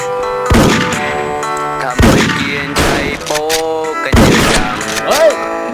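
Gunfire in the Special Force online shooter comes as several loud, sharp bursts of shots at regular intervals, mixed with game music and effects.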